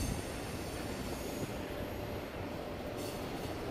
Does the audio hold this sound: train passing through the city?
yes